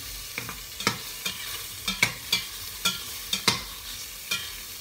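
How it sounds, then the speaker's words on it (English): Pre-cooked kielbasa sausage crisps in a pan as a spoon stirs it, giving about a dozen sharp scraping clicks over a soft, continuous sizzle, close and alone. "This type of kielbasa sausage is already pre-cooked, but I like to make sure it's crispy."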